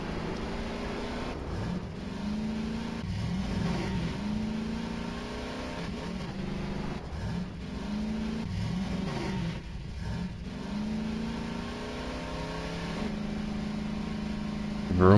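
A car engine in the video game Voices of the Void revs up and down in repeated swells while driving and swerving, a steady mid-pitched motor drone with rising and falling pitch sweeps throughout.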